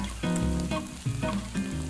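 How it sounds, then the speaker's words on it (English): Onions sizzle gently at a low, even temperature in a pan during Provençal market-inspired cooking, a close steady frying crackle with short stirring pulses. "we're going to start putting in our onions. Good, and you can hear it's a good temperature, and you want that nice low sizzle"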